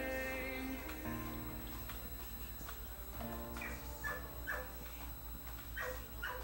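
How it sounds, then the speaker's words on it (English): A dog barks and whimpers in agitation, short yips and whines in bursts, faint and somewhat distant, behind game music. "My dog is like freaking out for no reason."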